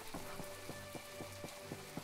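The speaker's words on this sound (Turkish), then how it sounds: "sürekli bir orada bir burada yağmur yağıyor" Faint, steady rain hiss in the game My Time at Portia, with soft rhythmic taps repeating at an even pace, like footsteps, over the patter.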